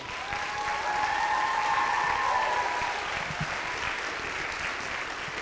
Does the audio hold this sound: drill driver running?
no